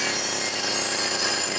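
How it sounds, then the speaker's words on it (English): A chainsaw roars in a cartoon episode, a loud, steady rasping buzz held without a break and with no talk over it. "Chainsaw!"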